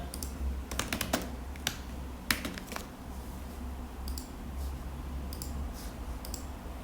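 Typing on a computer keyboard while entering a library search, heard as irregular bursts of crisp key clicks and taps, fairly close and quiet, with short pauses between groups of keystrokes and no talk.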